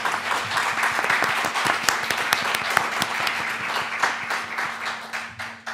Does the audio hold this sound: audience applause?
yes